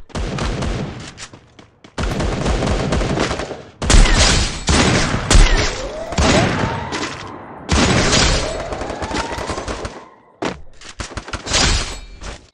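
Dense bursts of automatic and single gunfire in a mobile shooting game, loud and near, with rapid fusillades broken by short pauses and occasional thuds over roughly twelve seconds, no voices.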